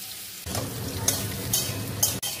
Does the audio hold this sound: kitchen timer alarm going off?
no